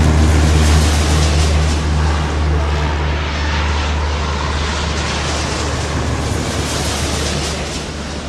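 Aircraft taking off in the video game Airport Madness: a loud, continuous engine roar with a deep steady drone that thins out slightly toward the end, heard alone.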